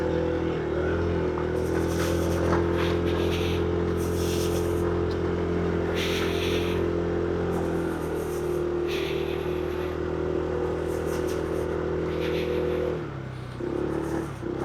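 A motorcycle carrying heavy luggage runs steadily along a mountain road in Atok, Benguet, its engine droning loud and close throughout, with a brief dip in tone near the end as the engine shifts.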